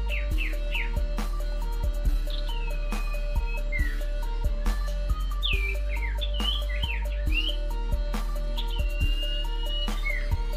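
Sirtu songbird calling repeatedly as it hops from perch to perch, bright chirps and short twittering phrases scattered across the stretch, near and clear over a steady low hum with faint background clicks.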